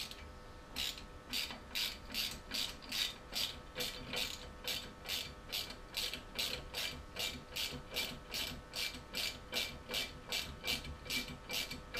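A ratchet loosens the brake caliper bolts on a Lotus Elise S2, its pawl clicking in a quick, even rhythm of about two strokes per second close by for twelve seconds, with no one speaking.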